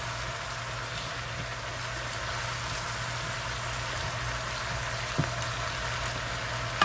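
Lamb chops fry in a pan over high heat, giving a steady, moderate sizzling hiss with a low hum beneath and a couple of sharp clicks near the end.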